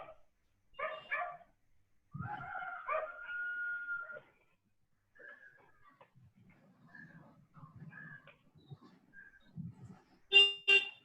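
A dog barks and howls somewhere nearby in a few separate bursts with quiet gaps between them, moderately faint, mixed with brief horn-like toots and some low murmuring.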